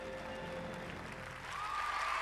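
A crowd applauds after a gymnastics team routine, a steady wash of clapping that swells slightly toward the end, with a faint tone running underneath.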